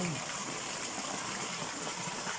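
Spring water pours from a pipe at a resort spring, a steady close-up rushing gush of splashing water that stays constant throughout, with no talk over it.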